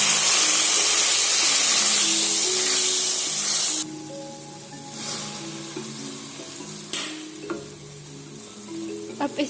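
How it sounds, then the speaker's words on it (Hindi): A cup of water poured onto light-browned onions in a hot pan bursts into loud, bright sizzling, then drops to a quieter bubbling simmer with faint stirring clinks. "अब हम इसमें 1 कप पानी ऐड करेंगे।"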